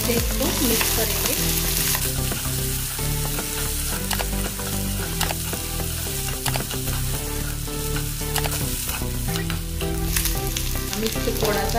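Chopped onion and green chilli stirred with cumin seeds in a hot pan, a steady loud sizzle and fry with scraping spoon strokes recurring throughout, no voices.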